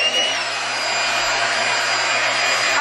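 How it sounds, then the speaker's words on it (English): A hairdryer blows steadily on wet paper money, a loud, continuous whooshing roar close by, unbroken throughout with no talking. "I did get him trying to dry out his money with a hairdryer"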